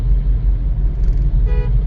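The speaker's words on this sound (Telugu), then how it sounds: "ఇప్పుడు మీరు హారన్ కొట్టండి ఒకసారి" On a highway driving lesson, a car horn gives one short toot over the steady low rumble of the moving car's engine and road noise.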